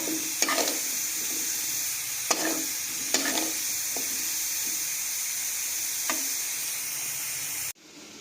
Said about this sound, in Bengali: সজনে ডাঁটা আলু দিয়ে একটু ঢাকা চাপা দিয়ে খুব ভালোভাবে মশলাটাকে আমরা কষিয়ে নেবো